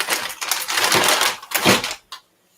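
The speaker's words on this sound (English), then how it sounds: "And then I'm just going to spray it just like this" A hand spray bottle mists color onto a mixed media art journal page in several hissing bursts, loud and close, with no talking.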